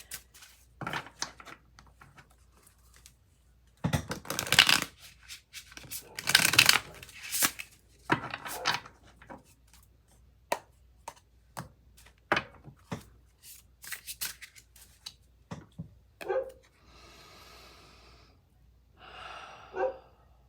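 Tarot cards being shuffled by hand in a noisy home, quick riffling bursts and soft slaps in separate clusters with quiet gaps and breathing between them.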